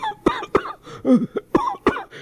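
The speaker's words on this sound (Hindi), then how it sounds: "बहुत जोर से खांसी हो रही होती है" A burst of harsh, heavy coughing, several sharp hacks in quick succession with a raspy throat-clearing in the middle, close and loud.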